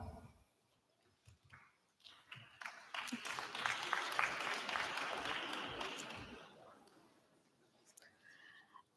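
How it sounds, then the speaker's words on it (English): Scattered clapping at a graduation ceremony grows into a fuller burst of applause that swells and then fades, with a few isolated claps and faint murmurs around it. "Please hold your clapping"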